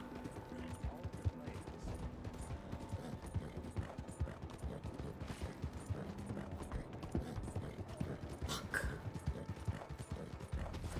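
Horse hooves clip-clopping in the video game Red Dead Redemption 2, a quiet continuous trotting rhythm with faint mechanical clicks over game ambience.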